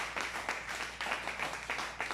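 Audience applause in a church gathering, a dense patter of hand claps with rhythmic surges, moderately loud and close, with no talking over it.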